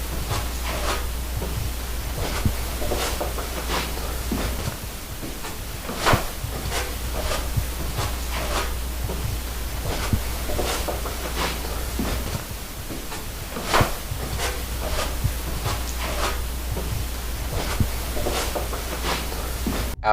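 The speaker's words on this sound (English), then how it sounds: "we just heard an unexplained knock on the staircase again" Several sharp knocks on a staircase inside the Mackay Mansion ring out at irregular intervals over a steady low hum and hiss, each one brief and fairly close.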